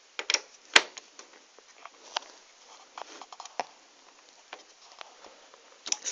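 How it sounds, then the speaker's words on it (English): Small screws come out of an Xbox Arcade motherboard in a quiet room: scattered sharp little clicks and taps at irregular intervals, close and fairly faint, with no talking. "Now we can start taking the screws out of the motherboard."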